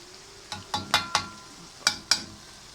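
Adobo-style mussels cook down in a pan until oily, with a utensil clacking sharply against the pan about six times in irregular bursts over a faint background sizzle.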